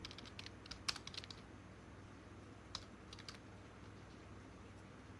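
Computer keyboard keys tapped while entering a name into an online land record form, a few scattered quiet clicks over a low steady background hum.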